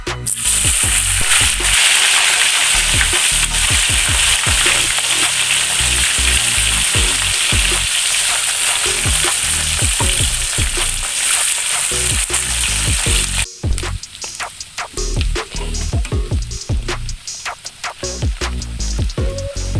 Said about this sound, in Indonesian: Sekarang kita lanjut goreng ikan asinnya.